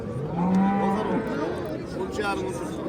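A cow moos once, low and drawn out, amid the crowd chatter and bustle of the Kattaqo'rg'on livestock market.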